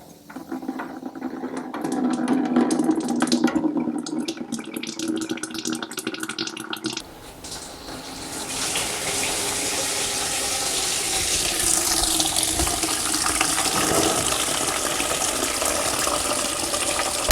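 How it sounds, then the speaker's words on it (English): Old coolant runs from the radiator drain plug of a Mitsubishi Pajero as a steady close trickle and gush of liquid that continues throughout with no talk. "just undo that and then the old coolant will tap out"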